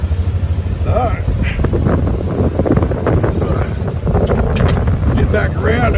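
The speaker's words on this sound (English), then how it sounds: "It's dangerous out in the wind like this." Strong wind buffets the microphone outdoors as a storm comes in, a heavy low roar that never lets up, while someone talks over it.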